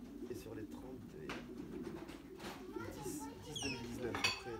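Racing pigeons at a loft after a 143 km race, cooing softly in low murmurs under nearby talk, with occasional clinks and rustles close by.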